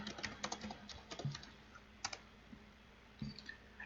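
Fingers typing a search into Google Trends on a computer keyboard, quick bursts of light clicking keystrokes with short pauses between, close and quiet, no talking.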